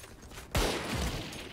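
A snowball launcher fires in the Valorant video game, one sudden loud burst after a brief lull, followed by a short thumping tail and a steady wash of game ambience.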